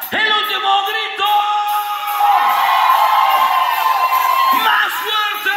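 A concert crowd shouts and cheers loudly in one long sustained roar, with many voices yelling and whooping together and rising and falling over several seconds.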